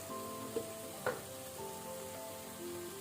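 Garam masala, coriander, chili and turmeric powders fry gently in a pan over a low flame for a vegetable pulao. The soft, steady sizzle is faint, and a couple of brief spoon clicks come from stirring.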